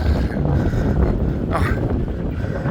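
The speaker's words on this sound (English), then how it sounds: "the wind's flying west to east" Steady wind buffets the microphone on the Blackpool seafront promenade, a continuous low roar that fills the clip from start to finish without letting up.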